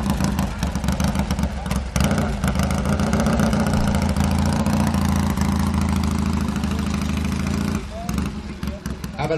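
Several motorcycles idle together at the 2011 Greenwich Motorcycle Show, a steady, loud, low engine drone with rhythmic exhaust pulsing that eases slightly near the end.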